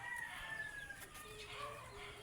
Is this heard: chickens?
yes